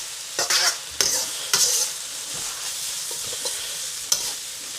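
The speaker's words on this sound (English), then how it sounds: "Just never stop stirring." Chicken chow mein is stirred and tossed while it fries in a pan, with a few sharp utensil scrapes against a constant soft sizzle, the strokes close by and bunched near the start.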